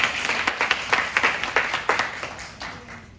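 A small meeting audience applauds a report, a few distinct individual claps that are close and irregular at first, then thin out and trail off into scattered taps.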